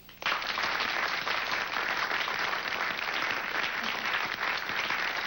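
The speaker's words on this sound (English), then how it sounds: "I would like you to give some applause to a woman who functioned as my co-chair" Sustained applause from an evening audience, dense steady clapping that starts abruptly and holds at an even level throughout.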